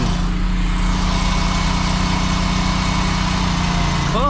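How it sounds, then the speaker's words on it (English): Chevrolet Camaro SS engine idling at night, a steady, close, continuous low rumble heard from inside the car, with a short voice at the very end. "Car making noise."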